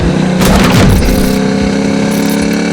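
A 1967 Chevrolet Camaro RS/SS with a 350 V8 and four-speed, its engine running loud and close, with a sharp rev burst at first that settles into a steady, throaty drone.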